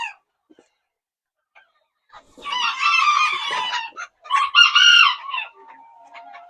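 Old English Game Bantam chickens in a backyard setup give two loud, close crows, each separated by a pause. Softer clucks and rustling fill the quiet stretches before and after.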